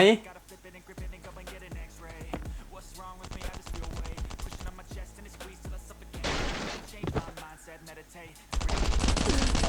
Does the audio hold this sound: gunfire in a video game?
yes